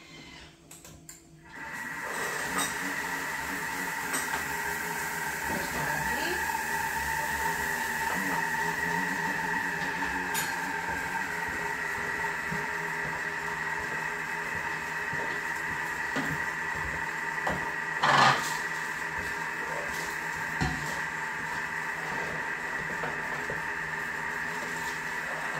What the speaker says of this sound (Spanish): Y voy a mezclar un minutito en velocidad 2. Para que queden bien unificados el queso con el azúcar.